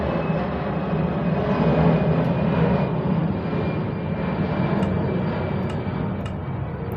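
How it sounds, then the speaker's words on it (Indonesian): An airplane engine drones steadily in a video game, a loud, continuous broadband roar with no talk over it, as a plane passes overhead in the game world. "Oke, ada pesawat."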